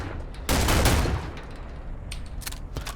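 A semi-automatic gun fires single shots in a video game: a loud, dense burst of shots, followed by a few sharper separate shots near the end.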